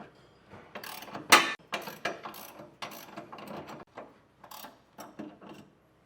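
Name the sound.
tightening a lock nut with a 15/16 ratchet wrench or socket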